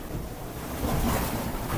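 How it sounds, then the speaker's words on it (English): Rough ocean with strong wind and beam-on waves washing against a racing sailboat's hull at sea, a loud, continuous roar of surf and gusting wind noise on the microphone. "Windy, and the waves are beam on."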